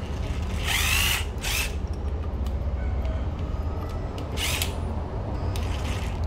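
A used Japanese cordless drill, model EZ 6501, runs with a steady, smooth whir close by, and a few brief higher-pitched surges rise over the motor.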